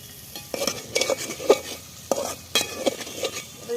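Soybean kofta curry masala with potato is stirred in a pan, a spoon scraping and knocking against the metal in irregular strokes over a soft sizzle, close and fairly quiet.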